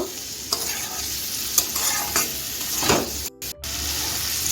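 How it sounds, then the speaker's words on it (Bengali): Bitter gourd and pumpkin being stirred and fried in a pan: a steady sizzle of oil under repeated scraping strokes of a spatula, close and fairly loud, with a few sharper clatters toward the end and no voices. "আর কুমড়োর সঙ্গে সব কিছু ভালো করে মিশিয়ে নিচ্ছি আমি এইভাবে"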